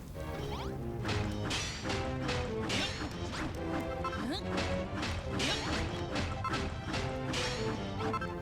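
Repeated smashing of objects in Dragon Quest Builders 2: a dense, steady run of loud cracks, thwacks and crashes that keeps going without pause, with no talk.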